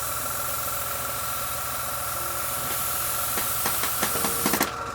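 Airbrush spraying freely after being unclogged, a steady close hiss of air that runs throughout, with a few small clicks and taps near the end.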